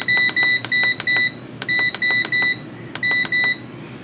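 Food dehydrator control panel beeping as the temperature is set to 160 and the timer adjusted, three quick bursts of short, bright electronic beeps, close and loud, with no talking.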